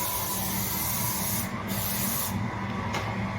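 Cooking spray hisses steadily into the insides of springform cake tins, a continuous close broadband spray with a few brief pauses and no talking.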